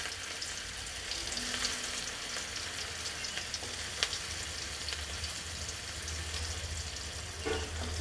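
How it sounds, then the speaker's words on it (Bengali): Bitter gourd frying in hot oil for shukto, a continuous close sizzle with light crackling and an occasional stir or clink, steady and moderately quiet with no talking. "বড়িটা ভাজা হয়ে গেছে, এবার উচ্ছেগুলো আমি ভেজে নেব।"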